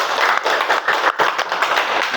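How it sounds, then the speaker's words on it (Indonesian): A classroom bursts into steady applause for a presenting group, a dense, continuous patter of many hands clapping close by with no talking over it. "beri tepuk tangan kepada kelompok"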